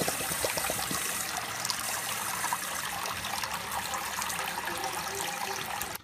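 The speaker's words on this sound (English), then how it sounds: "I'm going to go ahead and fill this up with the water." Running water pours steadily into a small pot, a continuous splashing trickle that stops abruptly at the end.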